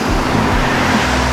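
A BMW with a loud exhaust rumbles loudly up close, a deep throaty idle with brief low revs.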